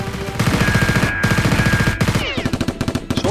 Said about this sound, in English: His accomplice sees this and shoots back at the SWAT.